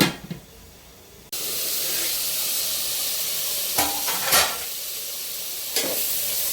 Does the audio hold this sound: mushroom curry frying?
yes